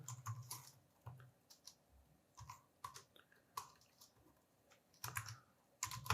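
Keys clatter on a computer keyboard in quick irregular bursts while a data field is typed into a format, close and fairly quiet, with soft pauses between runs of keystrokes.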